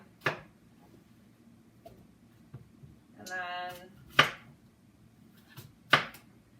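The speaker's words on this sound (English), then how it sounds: "just chunk up the apples, put them in the pan" Apples being cut into chunks with a knife on a board at home: three sharp, separate chops spaced a couple of seconds apart, with a brief murmur of voice between them.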